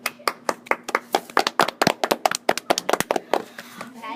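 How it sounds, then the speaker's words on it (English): A crowd at a market claps hands in a quick, uneven patter of sharp, close slaps that runs steadily for a few seconds with no voices. "Everybody clapped their hands."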